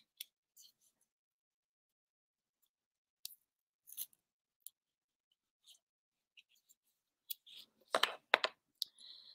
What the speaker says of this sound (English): While I unwrap the cord.